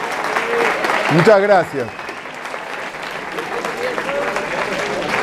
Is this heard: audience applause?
yes